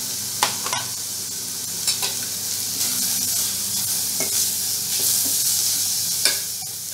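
Finely chopped vegetables and beans for a hot and spicy Indo-Chinese Manchow soup stir-frying in a pan, a close steady sizzle broken by a few sharp clicks of a spatula scraping and tossing.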